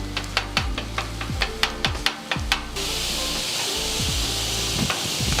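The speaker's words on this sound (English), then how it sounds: "and I just start chopping it up." Metal spatula chopping Cajun turkey on a hot Blaze griddle: a quick run of sharp, close scraping clacks over steady sizzle, then a broad frying hiss takes over with occasional taps.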